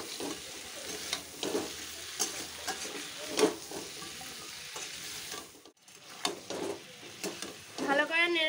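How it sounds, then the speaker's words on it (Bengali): Potatoes and tomatoes fry with salt and turmeric in a pan, a close sizzle broken by repeated scraping stirs of a spoon against the pan, irregular and busy. "ভালো করে নেড়ে চেড়ে আলু আর টমেটোটা হালকা ভাজা ভাজা করে নিয়েছি।"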